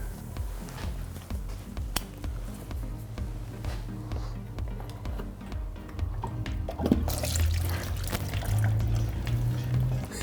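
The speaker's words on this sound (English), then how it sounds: "Just be ready for a little bit of oil to come out from the filter housing" Engine oil drips and trickles from the loosened filter housing of a BMW X5 E53 4.8is during an oil change, a steady faint patter of drops over low background hum, with a louder splash near the end.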